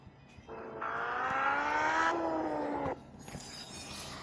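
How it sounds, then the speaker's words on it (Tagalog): A Honda car engine in the video game Car Parking Multiplayer whines up in pitch, holds a steady drone, then cuts off abruptly, with faint background effects around it. "ganun pa rin yung tunog ng Honda"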